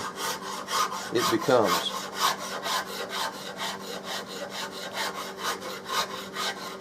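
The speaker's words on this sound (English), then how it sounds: "This is a really, really fine pattern maker's rasp made by Nicholson." Nicholson pattern maker's rasp filing a wooden Remington 700 Mannlicher-style rifle stock, a steady series of close, regular scraping strokes in an even back-and-forth rhythm, with a brief spoken phrase near the start.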